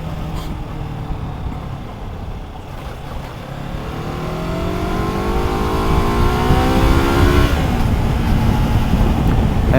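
A 2023 VOGE 350 AC motorcycle with a reworked new engine accelerates on a test ride, its engine note climbing steadily in pitch through the gears over continuous road and wind noise, loud and close, with no talking.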